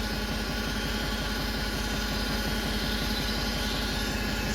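A Xingtai T 244 L minitractor engine runs at a steady, loud idle, its low rhythmic chugging constant throughout while the hydraulic lift raises, with no distinct mechanical event standing out.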